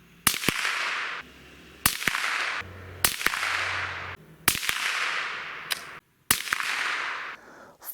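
A Savage B22 rifle fires Aguila Hollow Point High Velocity .22 rounds at a 50-yard range: a string of sharp, loud cracks, each trailing off in a short echo, spaced irregularly over several seconds, with no voices.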